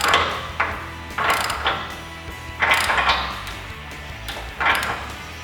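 A ratchet with a 1.5 inch socket snugs a spindle nut onto a Wrangler spindle, sounding as several close bursts of ratcheting clicks separated by short pauses, with no talking.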